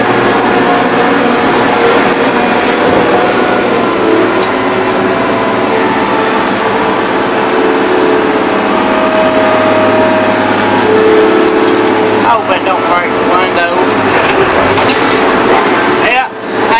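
A John Deere 7020 tractor engine runs steadily and loud throughout, a continuous mechanical rumble with a faint rattle, while someone talks over it.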